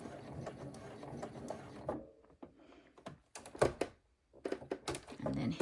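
A hand-cranked sewing machine stitches a crossbody bag in short bursts of quick mechanical clicking and whirring, stopping and starting between quiet pauses, close and moderately soft.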